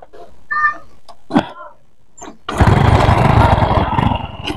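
An old, worn-out motorbike gives a few scattered knocks and sputters, then its engine catches and runs loudly and steadily at close range for the last two seconds.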